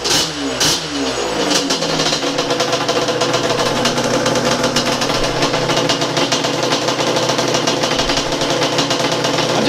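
A Yamaha Banshee two-stroke engine on a drag-build quad idles steadily and loudly close by, its rapid buzzing putter running unbroken throughout.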